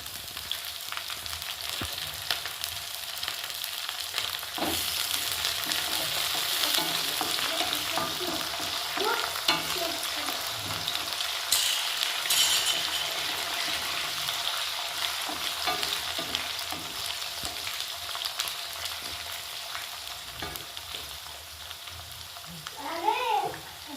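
Onions frying in oil in a pan for uppittu with curry leaves and coriander, a loud continuous close sizzle with occasional stirring scrapes, faint voices underneath.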